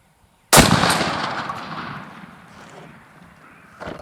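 A shotgun fires a Browning TSS turkey load at 60 yards outdoors: one loud, sharp blast that rings out and decays slowly over several seconds, with a faint click near the end.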